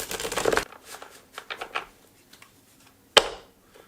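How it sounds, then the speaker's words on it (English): A deck of Hermetic Tarot cards is shuffled close by: a burst of riffling, then scattered soft card slaps and taps, and one sharp loud snap of cards near the end. "I'll shuffle a couple more times just to kind of activate these cards"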